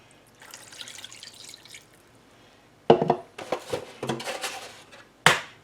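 Water poured into a mixing container while making a chocolate dessert, a soft trickle at first, then a silence, then louder splashing pours and a final sharp splash with a clink of the container.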